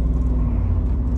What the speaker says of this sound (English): let's start the engine and go on a little road trip